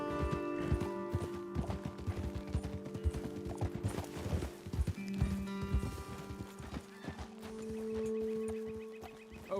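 Horse hooves clip-clop in a steady, close rhythm in the video game Red Dead Redemption 2, mixed with occasional whinnies and faint mechanical tones, with no talk.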